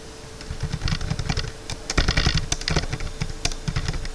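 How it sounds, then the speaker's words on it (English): Quick, uneven keyboard typing, clicks clustering in bursts with short pauses, close and fairly loud, no voices. "Here I just start typing the content."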